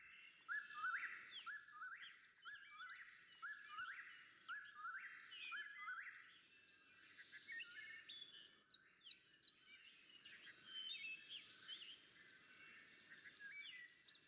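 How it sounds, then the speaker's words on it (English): A dawn chorus of many eastern deciduous forest birds in West Virginia sings and chirps at once in a busy, overlapping chorus, with faint insect buzzing underneath and no voices. "This dawn chorus from West Virginia features the voices of birds"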